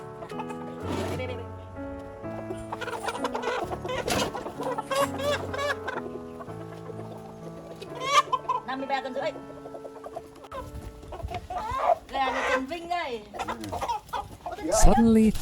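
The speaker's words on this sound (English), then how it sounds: "Suddenly, one chicken breaks free." Caged chickens cluck and squawk in bursts, close and fairly loud, with scratching and patter between calls.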